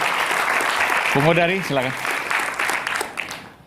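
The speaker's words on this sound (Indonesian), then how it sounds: "kita berikan tepuk tangan" Loud, steady applause from a crowd at a political talk continues throughout, with someone briefly speaking over it partway through.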